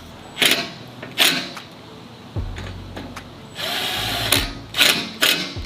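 Power drill fastening a roof rack onto a 2024 Ford Bronco, short whirring bursts with clicks and one longer steady run, close and fairly loud.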